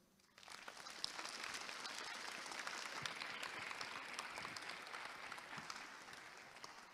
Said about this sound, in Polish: dla nich wielkie brawa